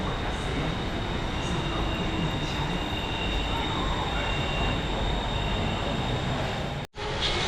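Bangkok BTS Skytrain carriage in motion, a continuous loud rumble of wheels on rail with a steady high whine, cutting out abruptly near the end before resuming.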